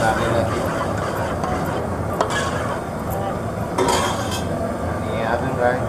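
Colocasia leaf curry stirred in a pot for a Konkan Rishi Panchami dish, a spoon scraping and clinking steadily against the metal over a continuous bubbling, noisy background.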